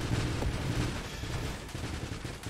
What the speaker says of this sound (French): Pas mal d'explosion.